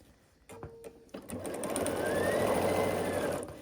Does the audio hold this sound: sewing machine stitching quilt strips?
yes